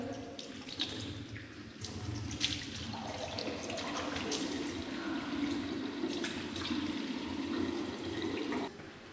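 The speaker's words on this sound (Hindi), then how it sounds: "मैंने थोड़ा सा मुंह धो लिया है" Water runs steadily from a tap into a sink during face washing, a close, soft splashing stream with occasional splashes and handling noises throughout.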